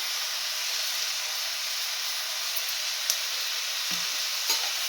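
Tomato curry with turmeric and chili powder is stirred in a pan over a steady sizzling hiss, with a couple of soft spoon scrapes and knocks near the end, no voices.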